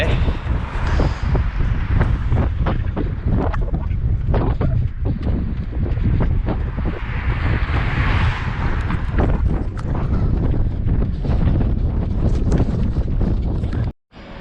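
Strong wind buffets the microphone of a runner crossing a bridge on Gajo Island, South Korea, a loud continuous roaring rush with gusty surges and rustling throughout, cutting out briefly near the end.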